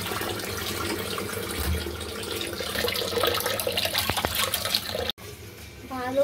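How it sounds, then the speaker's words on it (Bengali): Cut beef is washed under a running kitchen tap, giving a steady close splash and gurgle of water that shifts as the meat is moved and rinsed. "এখানে মাংসগুলোকে কেটে নিয়েছি আর ভালো করে ধুয়ে নিচ্ছি।"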